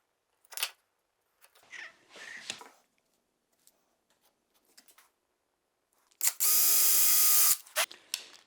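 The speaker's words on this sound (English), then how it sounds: "so I'm going to set my screws in 1 inch" A drill with a countersink bit sets screws into wood while a simple adjustable router jig for dados is built, giving a long loud whirring burst near the end after several short, quieter mechanical bursts and handling noises.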